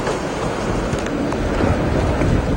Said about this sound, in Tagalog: Na may kasabay na pagbayo ng malakas na hangin.